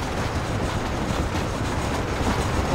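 A moving train in the video game Red Dead Redemption, a loud continuous rolling rumble with rhythmic clickety-clack of wheels on rails, steady and close throughout.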